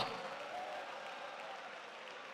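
Faint applause from a church congregation during a Telugu Christian sermon, a brief patter of clapping that fades slightly over a couple of seconds.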